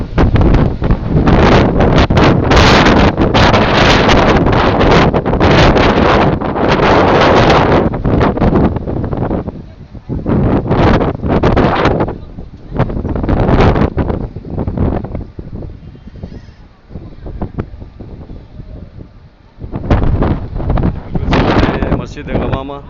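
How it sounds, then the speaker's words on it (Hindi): Strong wind roars through swaying trees in Madinah, heavy gusts buffeting the microphone almost continuously, easing briefly in the middle before surging again, with someone speaking over parts of it. "देखें बहुत तेज़ हवाएं चल रही हैं।"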